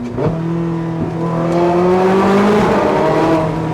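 A Porsche 918 Spyder hybrid engine revs up and accelerates, its whirring, rising tone climbing steadily and loudly from inside the car.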